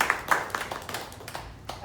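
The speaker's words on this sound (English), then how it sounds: "I think you all deserve a round of applause for being here" A panel discussion audience at a Voice of Vitiligo event in Mumbai gives brief, scattered applause, a couple of seconds of close hand claps with some murmuring voices mixed in.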